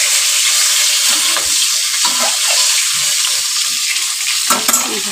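Fish frying in a pan on a home kitchen stove gives a loud, continuous sizzle, with a few soft scrapes and stirs of a spatula breaking through.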